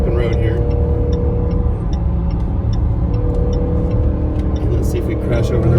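A 2019 Jaguar F-Pace SVR accelerating hard along an open road, its engine a loud, sustained roar heard from inside the cabin, with someone speaking over it.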